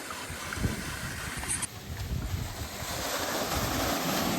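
A 7.5 HP Shakti solar water pump runs, drawing from a well: steady rushing water noise fills the clip, broadband and continuous like gushing flow, with a low rumbling undertone and no voices.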